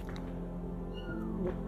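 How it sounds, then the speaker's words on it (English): A kitten meows inside a dilapidated abandoned house, a thin cry rising briefly partway through, fairly faint and distant over a steady low background hum. "immediately I hear a kitten"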